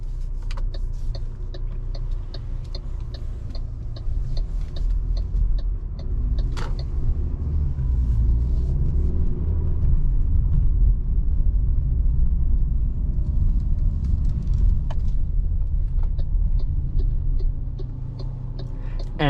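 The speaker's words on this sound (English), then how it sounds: "we will now depart this garage and go on a nice relaxed night point of view test drive" Inside a 162 hp petrol 2023 MG HS on a night drive through Zagreb, Croatia, a low steady road and engine rumble swells slightly mid-drive, with faint scattered ticking clicks over it.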